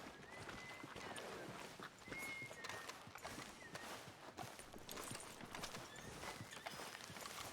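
Horse hooves clip-clop steadily in Red Dead Redemption 2, an even walking rhythm of faint hoof falls over quiet game ambience.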